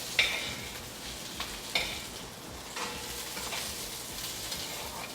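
Onion, ginger and spices cooking in a pot to caramelize, with a soft steady sizzle and a few sharp stirring clinks near the start and again around two seconds, fairly quiet and without talk.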